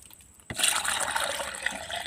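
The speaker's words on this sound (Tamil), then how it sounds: "தேவையான அளவு தண்ணீர் ஊற்றிக்கொண்டு" Water poured steadily into a container to mix a camphor-based natural pesticide solution, a sudden loud splashing onset followed by continuous close-up liquid rushing and filling.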